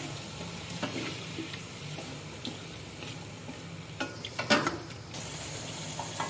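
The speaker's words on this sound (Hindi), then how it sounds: "अब चिकन शामिल कर देंगे इसमें। चिकन को इसमें थोड़ा भून लेंगे।" Quiet, steady sizzle of chicken frying in a pan with occasional stirring clinks and scrapes, no voices.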